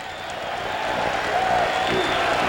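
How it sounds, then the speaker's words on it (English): Basketball fans at an Oregon State vs Arizona State college game clap and cheer from the arena stands, a steady, sustained crowd roar that swells slightly toward the end. "Fans are finally clapping."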